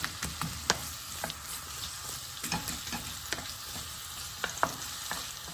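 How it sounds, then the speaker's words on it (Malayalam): Onions with curry leaves sauté in a pan, crackling quietly and steadily, with sharp spatula taps and scrapes landing every half second or so. "ഇതൊരു ജസ്റ്റ് ഒന്ന് വാട്ടിയെടുക്കാം"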